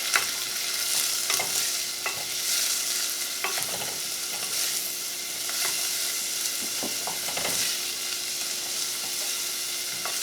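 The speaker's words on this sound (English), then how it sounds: "let our onions start to cook down and get soft and slightly brown" Onions sauté in a pan with rosemary, giving a steady soft sizzle over several seconds. Occasional stirring scrapes and clicks sound up close, with no talking.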